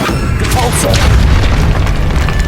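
Depulso spell blast in the video game Hogwarts Legacy: a loud, dense booming burst that fills the moment, mixed with game sound effects and a voice.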